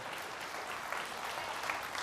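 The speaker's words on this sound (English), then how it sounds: "please give her a round of applause" Steady applause from an audience, a dense wash of clapping that continues without break for the whole moment.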